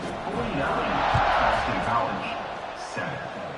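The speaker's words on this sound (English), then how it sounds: "this crowd is buzzing after that last score" Stadium crowd in an American football video game, a loud, continuous roar that swells and then eases slightly, with a commentator's voice running over it.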